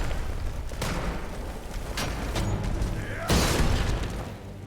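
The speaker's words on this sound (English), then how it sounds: "How do you fire a fireball into 3 fucking enemies and miss them all?" Fireball spells explode in Skyrim, the 2011 open-world PC role-playing game: several loud, booming bursts land at uneven intervals, the heaviest near the end, over a constant rumbling background.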